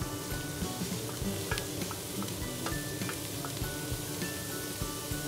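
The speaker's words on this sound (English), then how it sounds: "add the remaining oil. Add the onion, carrots and celery." Onion, carrots and celery sizzle steadily in hot oil in a pan, a continuous crackling fry with scattered small pops and a soft stirring rustle throughout, no voices.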